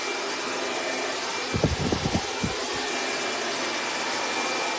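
A hair dryer fitted with a nozzle blows steadily and loudly close by while drying and flattening a man's short haircut, with a brief muffled handling bump partway through.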